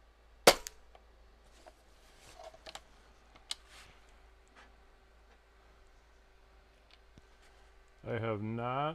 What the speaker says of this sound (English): I'm going to take a 10 shot group and we'll see what this rifle can do.